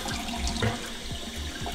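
Water poured into a pipe on a Nissan S13 car, a continuous gurgling, splashing flow with bubbling pulses, close and steady throughout.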